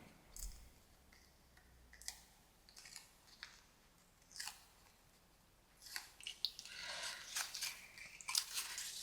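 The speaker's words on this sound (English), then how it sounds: "So I'm going to pull the tape off of this side." Tape peeled off one side of a paper diamond pop-up during assembly: quiet crinkly rustles and small clicks, sparse at first, then thicker and louder near the end, close up with no voices.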